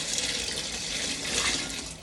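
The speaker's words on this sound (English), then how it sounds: "So I have 2 quarts of homemade beef broth." Homemade beef broth pouring steadily into a pot, a continuous close liquid splash and gurgle lasting the full two seconds with no voices.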